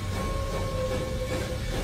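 The steam train monster Choo Choo Charles in a video game, heard as a steady loud rumbling rail noise with sustained whistle-like tones running through the whole moment.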